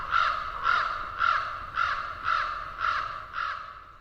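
Ravens give a steady run of seven harsh, throaty calls about half a second apart, each loud and close, with no voices over them.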